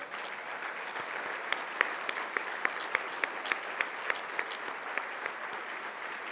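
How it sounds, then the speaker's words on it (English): A conference audience applauds the standing board members, sustained clapping from a large room with a regular beat of louder, prominent claps over the dense wash. "could you all just stand up so we can give you a round of applause"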